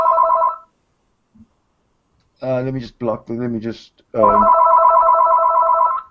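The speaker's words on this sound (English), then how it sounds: "not answer the phone." A telephone rings in two close electronic bursts, one at the start and a longer one at the end, with someone speaking briefly in between.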